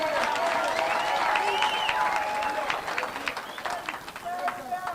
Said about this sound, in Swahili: Hebu tupige makofi.